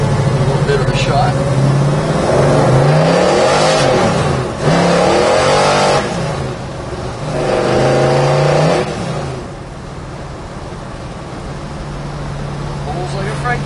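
A 1967 Chevrolet Chevelle engine revs up hard and pulls away, rising and falling through a few bursts of acceleration, then settles to a steady idle rumble.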